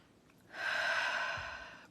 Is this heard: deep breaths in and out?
yes